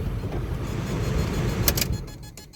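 A car engine idles with a low rumble and then shuts off, the hum fading away and followed by a few sharp clicks and small mechanical noises inside the vehicle.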